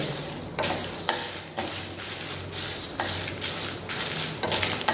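Urad dal and chana dal dry-roasting in a pan over a medium flame for idli podi, stirred nonstop with a spoon, giving steady rhythmic scraping sweeps about twice a second over a faint background hiss.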